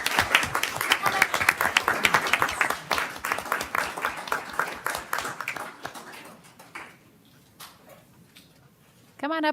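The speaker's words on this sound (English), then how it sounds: "So please join me in giving Trisha a big thank you and a round of applause" An audience applauds at a recognition ceremony, with close, crisp clapping that starts strong and gradually thins out to scattered claps before a voice comes in at the end.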